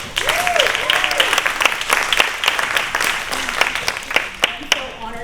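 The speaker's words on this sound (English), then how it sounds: "let's give a round of applause for our panel" Audience applause for a women-in-advertising panel at an evening mixer, a dense wash of clapping lasting throughout, loud and steady with a few sharper claps standing out, and voices faintly mixed in underneath.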